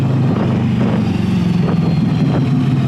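A VOGE CU525 motorcycle engine idles at a slightly high speed, giving a steady, close, continuous rumble with no talking.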